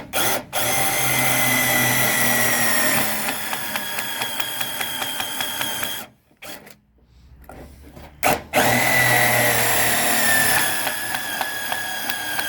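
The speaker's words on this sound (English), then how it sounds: "take my little number 10 countersink bit right here and just give it a little bore" A power drill runs a number 10 countersink bit into a piece of scrap wood for a key chain shelf. The motor whines steadily at close range, cuts out briefly partway through, then spins up again, with no talking.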